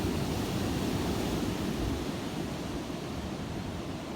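Strong storm wind roars in a steady, loud broadband rush with low rumbling buffeting, easing only slightly toward the end.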